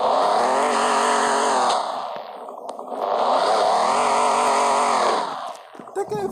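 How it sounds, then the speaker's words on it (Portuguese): A stock, unmodified Volkswagen Golf in the Tuning Club game revs hard twice, a loud buzzy engine note climbing and holding for nearly two seconds each time, with a brief drop between and a few clicks at the end. "Eu vou dar uma acelerada aqui só para vocês verem o ronco do motor."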